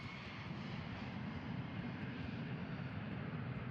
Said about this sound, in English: was cleared for takeoff.